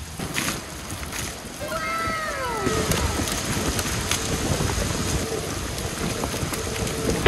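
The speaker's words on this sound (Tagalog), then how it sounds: "Medyo humina na yung ulan." Heavy rain falls steadily during a storm while a food delivery rider shelters in Singapore, a dense loud hiss that holds throughout, with a brief faint whistling tone near the start.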